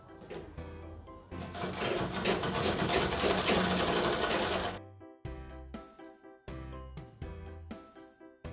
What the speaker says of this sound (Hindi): अब ये सिलाई कंप्लीट कर देंगे